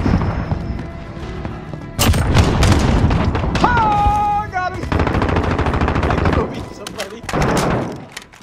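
Heavy automatic gunfire and booming blasts fill a Call of Duty: Modern Warfare team deathmatch, loud and continuous and up close, with players talking over the shooting.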